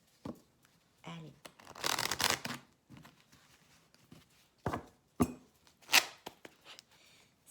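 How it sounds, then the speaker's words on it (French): Oracle cards being shuffled by hand, several short dry bursts of card friction in quick succession with pauses between them, close and clear, and no talking over them. "on va prendre une dernière carte et on se quittera là-dessus de l'oracle de l'intuition"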